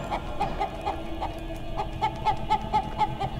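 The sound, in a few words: chicken clucking in video game City of Brass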